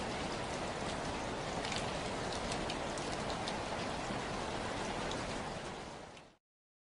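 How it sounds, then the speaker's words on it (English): Steady, dense rain falls without pause, a broad even hiss with scattered brighter drop patters, continuous and fairly close, with no voices. "The rain fills the silence"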